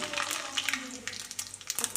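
Small seeds pop and crackle in hot oil, scattered sharp snaps over a low sizzle, close by and fairly quiet.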